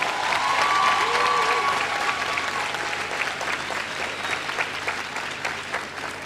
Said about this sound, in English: So could we give her a louder round of applause?